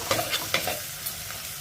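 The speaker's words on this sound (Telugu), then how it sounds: "ఒక రెండు నిమిషాలు ఈ వంకాయ ముక్కల్ని ఫ్రై చేసుకోవాలి" Brinjal pieces frying in a pan, with a few quick stirring scrapes and clicks over a soft background sizzle, heard up close.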